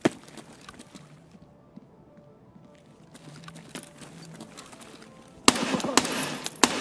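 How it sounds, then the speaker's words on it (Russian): Gunshots fire at a bot in Escape from Tarkov, sharp cracks scattered through quiet stretches, ending in a loud close burst of rapid shots. "Три выстрела боту в голову"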